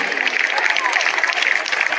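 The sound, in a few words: audience applauding at annual function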